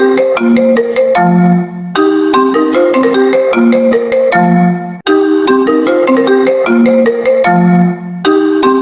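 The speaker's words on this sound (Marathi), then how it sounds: "हा फोन फोन आलाय, बरोबर आहे." A melodic electronic phone ringtone plays loudly and continuously, repeating its looping tune twice with a brief pause between cycles.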